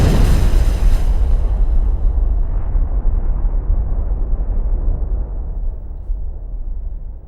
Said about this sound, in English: There are signs of massive explosions that are changing the shape of the Earth's surface.